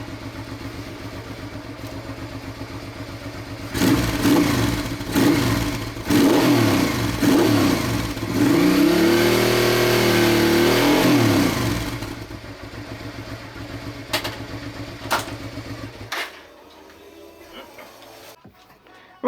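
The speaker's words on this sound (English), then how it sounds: "This is the last time you're going to hear this engine for quite a while." A Honda NT650 Bros V-twin motorcycle engine, warmed up, idles and then is blipped through several strong revs that rise and fall, loud and close, before settling back and cutting out near the end.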